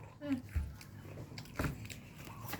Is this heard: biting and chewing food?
yes